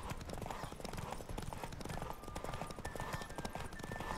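Horse hooves gallop in the video game The Witcher 3, a fast, steady rhythmic clip-clop that runs loud and close throughout, over a continuous bed of game background sound.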